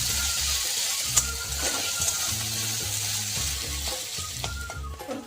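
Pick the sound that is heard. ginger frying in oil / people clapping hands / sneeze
ginger frying in oil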